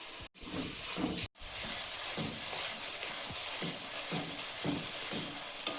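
Ground spice paste with salt and turmeric powder frying in hot oil for a chicken curry, a steady close sizzle running throughout with light stirring scrapes and two brief cuts in the sound.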